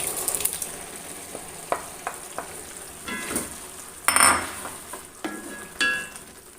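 Cooked lentils (dal) tipped into a pan of spinach and stirred for an easy coconut-free curry, with faint sizzling under scattered scrapes and clinks of the spoon against the pan, no voices.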